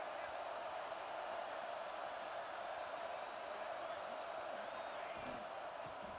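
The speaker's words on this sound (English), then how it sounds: "Listen to the crowd energy here in the early going." Steady, dense roar of a large stadium crowd in the football video game EA Sports College Football 26, continuous and loud throughout, with a faint whoop rising near the end.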